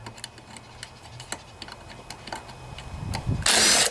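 Socket wrench ratcheting out head bolts on a Briggs & Stratton 7.25 163cc lawnmower engine, a string of sharp metallic ticks and clicks, with a louder burst of clatter and handling noise near the end.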